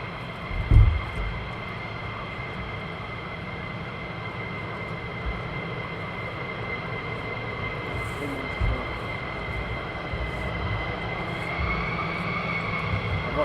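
Military jets of the 492nd squadron at RAF Lakenheath idle on the north side ahead of departure, a steady loud engine whine and rumble holding throughout with a brief thump near the start.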